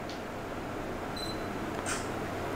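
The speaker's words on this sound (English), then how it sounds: "You do auto focus and then we'll snap a photo." A Sony RX100 compact camera fires its shutter, a short soft click with a brief electronic beep just before, heard alone over a steady faint room hiss.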